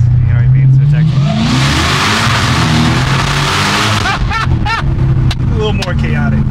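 A Dodge Charger Hellcat accelerates hard with its exhaust valves opened, a loud rising engine roar close by that climbs through the gears, while voices in the cabin shout over it.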